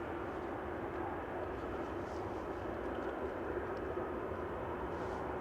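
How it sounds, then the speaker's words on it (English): A Turkish Airlines Airbus A321-200neo departs Manchester Airport bound for Istanbul, a faint, steady distant jet rumble and hiss held for several seconds without talk. "Next to go will be Turkish Airlines to Istanbul, A321-200."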